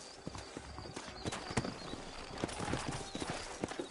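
Horse hooves clip-clop steadily at walking pace in the Red Dead Redemption video game, sturdy horses moving near and fairly loud over a busy background of game ambience.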